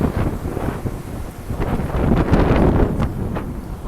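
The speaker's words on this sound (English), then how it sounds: "This is where the tailwind really kicks in usually, which it just did." Steady wind rushes and buffets across the microphone outdoors while cycling with a strong tailwind past grass, loud and continuous with gusty swells and no talking.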